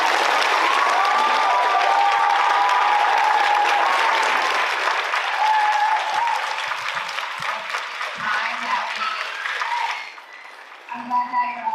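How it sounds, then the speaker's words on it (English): Audience at a school board of education special voting meeting breaks into sustained loud applause that lasts about ten seconds before tapering off, with a few scattered voices and a brief murmur under the clapping near the end. "I'm glad that you're all clapping."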